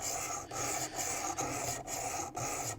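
A knife blade is drawn in long, full strokes across the abrasive stone of a WorkSharp Precision Adjust sharpener, making a close, steady rasping scrape repeated about six times in an even rhythm, with brief gaps between strokes.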